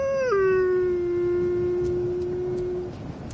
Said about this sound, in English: The howl. How many times have we imagined that sound?